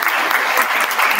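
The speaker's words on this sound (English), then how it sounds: "let's give a round of applause to our the beautiful catering folk" Attendees at a Queer Justice event give the catering staff a loud, dense round of applause, close and continuous for the whole moment.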